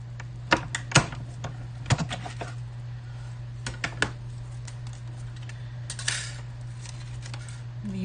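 A die-cutting machine feeds a cut butterfly design through its rollers, giving a steady low hum with scattered sharp clicks and taps, fairly close and moderately loud, with no talking.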